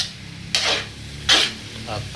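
Ginataang ubod ng lubi, coconut heart in coconut milk, being stirred in a pan, giving two short scraping swishes with a faint third, close by over a low background hum.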